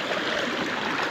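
Small stream near a village well, flowing steadily with a dense, even rushing wash, close and continuous, with no voices.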